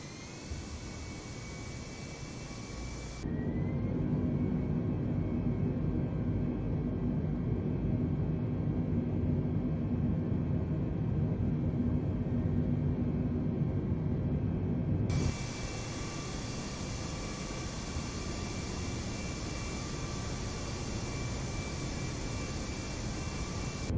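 An Air China airliner's jet engines roar at full takeoff thrust on the runway. The loud, steady, broadband rumble swells sharply after a quieter stretch, holds for about twelve seconds, then drops back to a lower constant whine.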